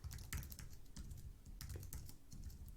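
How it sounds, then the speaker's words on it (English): Quick, uneven clatter of keystrokes on a computer keyboard while entering a prompt into an AI hardware design assistant, steady and close with no voices. "if I could even type"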